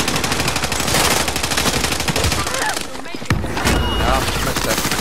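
Rapid automatic gunfire fills a Warzone Resurgence battle royale match, loud and nearly continuous with a brief dip before the bursts resume, while players talk over it.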